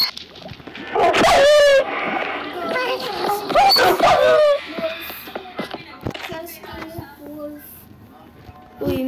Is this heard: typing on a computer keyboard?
no